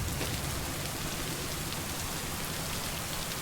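Steady rain falling in the video game Lake, a dense continuous hiss of drops spread evenly with no voices or other sounds.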